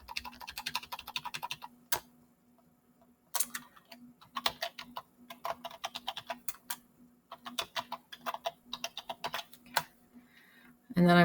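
A computer keyboard being typed on up close, bursts of quick key clicks broken by short pauses, with a faint steady hum underneath.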